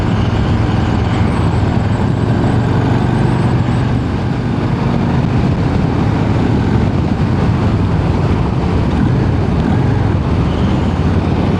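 A 2023 Harley-Davidson Street Bob with a big two-cylinder engine rides along a road, giving a loud, steady rumble mixed with wind and road noise that runs on without a break and has no talk over it.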